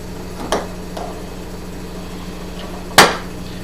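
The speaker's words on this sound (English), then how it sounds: "pop the clip off" Retaining clip popped off the recoil starter of a Honda ATC 200S, two sharp metallic clicks about two and a half seconds apart over a low background hum.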